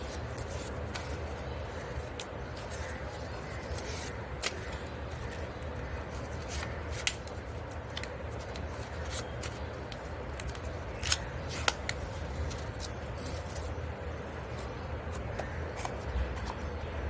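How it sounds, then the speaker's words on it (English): Paper is creased into a fan fold for a school Gudi Padwa craft, the crisp rustles and sharp creasing snaps repeating close by over a low steady background hum, with no talking. "We are folding this paper like Chinese fan fold."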